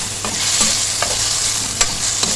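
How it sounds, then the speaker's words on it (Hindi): Chicken being stirred in a hot pan with ginger garlic paste: regular scraping strokes of the spoon over a constant loud sizzle of frying. "अब इसको अच्छे से मिक्स कर लेंगे"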